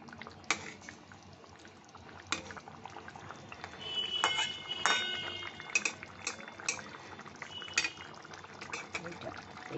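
A pan of Bengali egg curry gets its lid set down with a few sharp metallic clinks, close by, over a soft background hiss of simmering.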